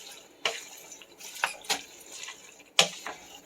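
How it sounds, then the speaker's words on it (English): Soft scattered clinks and scrapes of a utensil against a pot of cabbage soup on a stove, a handful of sharp metallic taps in an irregular rhythm over quiet background. "I'm going to go ahead and give this a stir"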